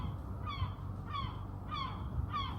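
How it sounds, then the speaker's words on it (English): Seagulls calling outdoors, four harsh, evenly spaced cries at moderate distance over a low background rumble. "Listen. Yeah, the seagulls are here."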